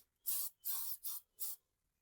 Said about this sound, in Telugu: నేను అక్కడ కూడా స్ప్రే చేసా ఈ కార్నర్ ఏరియాలో